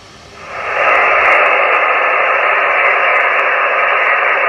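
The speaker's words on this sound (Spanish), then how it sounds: "Este está ahora mismo sin antena, no está recibiendo nada" A radio receiver with no antenna connected and picking up no signal, producing a steady hiss of static noise that fades in over the first half second and then holds loud and constant.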